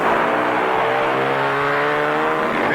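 A Ferrari V12 race car roars past at the 1962 Daytona Continental, its engine a loud, sustained, steadily rising howl with strong harmonics, close by and continuous throughout.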